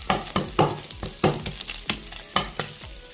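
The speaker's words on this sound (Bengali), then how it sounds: "মাছটাকে আমি প্রথমে সানফ্লাওয়ার অয়েল দিয়ে ভেজে নিচ্ছি।" Sardines frying in sunflower oil with coriander-cumin powder, a steady sizzle broken by about eight sharp, close scraping stirs at a quick, uneven rhythm, with no voices.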